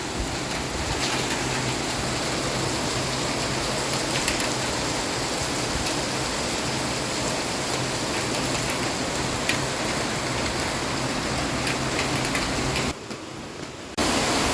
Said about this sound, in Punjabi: ਮੀਂਹ ਕਿੰਨਾ ਤੇਜ਼ ਹੋ ਗਿਆ